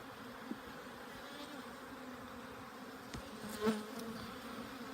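Honey bees hum in a dense, steady drone during an April hive inspection, a close swarm of buzzing wings with a few louder passes near the microphone.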